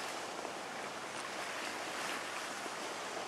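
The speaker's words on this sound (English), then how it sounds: "the wind is very strong and the water's quite choppy around here" Strong wind and choppy water around a sailboat, a constant broad rushing wash of spray and gusts with no distinct breaks, fairly loud and close.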